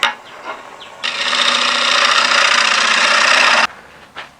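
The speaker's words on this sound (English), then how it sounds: "I've got a very fine edge there for shear scraping" Fine-edged tool shear scraping an oak bowl on the lathe, a close, bright rasping scrape lasting a few seconds between short quieter touches.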